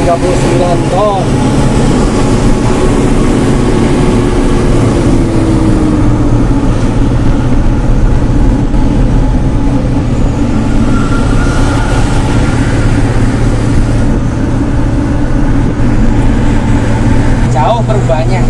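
A Hino Ranger 500 Euro 4 truck hauling a 39-ton load while overtaking other trucks, its engine a loud, steady, low drone with road and cab noise throughout.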